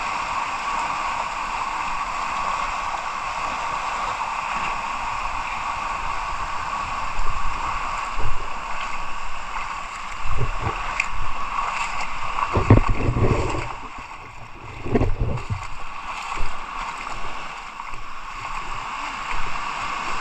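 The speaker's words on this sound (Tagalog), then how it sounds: "ang lakas na ng alon guys oh" Strong sea waves surge and wash over rocks at Caboangan Beach, a steady rushing roar with louder crashing bursts in the second half, no voices.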